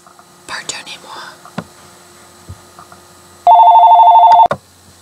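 A telephone rings once with a steady electronic tone lasting about a second, loud and close, after a stretch of soft whispered talk and small handling noises.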